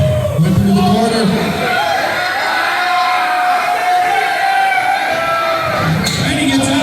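A wrestling show crowd in Spokane roars and whoops continuously, a dense, loud wall of cheering and shouting with swelling bursts near the start and end.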